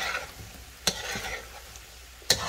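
Salt fish being gently folded into coconut milk in a pot over medium heat for Jamaican rundown, a soft continuous simmering sizzle broken by two sharp spoon clinks against the pot.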